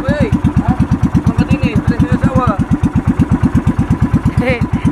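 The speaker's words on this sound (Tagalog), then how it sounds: "At napaandar na ang makina." A boat engine runs steadily after starting, a loud rapid thumping putter that holds a regular rhythm close by, with people talking over it throughout.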